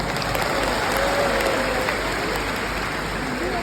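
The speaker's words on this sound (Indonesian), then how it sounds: "Tepuk tangan buat UNHAS" Students at a university orientation event for Universitas Hasanuddin applaud, a dense, even wash of clapping from a large crowd that holds steady for the short stretch.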